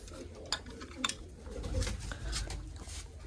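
Pigeons kept in a loft coo softly in the background, faint and low, with a few sharp taps and wing flutters breaking through.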